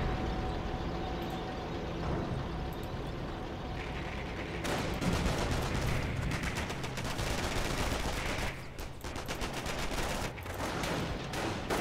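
Light machine gun fire from a Company of Heroes battle, with dense, continuous bursts of automatic gunfire layered with scattered shots and rumble. The firing runs steadily for the whole stretch and gets busier partway through, with no talking.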